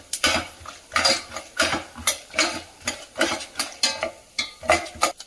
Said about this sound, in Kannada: ಒಂದು ಸ್ವಲ್ಪ ಶೇಂಗಾ ಬೀಜ ಹಾಕ್ಬಿಟ್ಟು ಚೆನ್ನಾಗಿ ಫ್ರೈ ಮಾಡ್ಕೊಳ್ಳೋಣ.